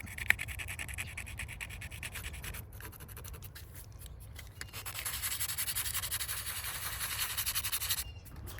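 Hand sanding rust spots off a car's painted body panel before touch-up primer, a steady close scratchy rubbing that grows louder and denser in the second half, with brief pauses.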